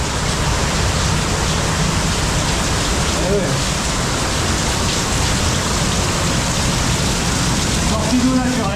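A natural water outflow rushes steadily through an underground tunnel, a loud, constant roar that fills the whole space, with a brief spoken remark over it.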